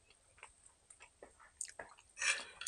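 Chewing steak close to the mic: soft wet mastication clicks and crunches spread sparsely, growing louder toward the end, with no talking.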